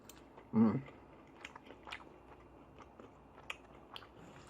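Close, quiet chewing of a bite of pork chop topped with a large chunk of garlic, starting with one louder bite and followed by faint, irregular crunches and mouth sounds.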